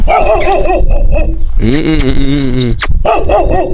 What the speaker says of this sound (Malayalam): ഇവിടെ ഒരു പട്ടി എല്ലാ വീട്ടിലും പട്ടിയുണ്ട്